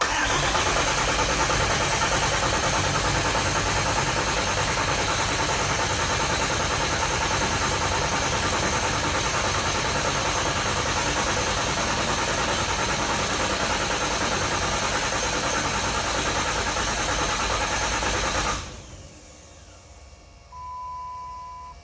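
A car engine cranks steadily and loudly with its fuel injectors disconnected and battery connected, a continuous churning drone that runs for most of the stretch before abruptly cutting off, leaving faint quiet background.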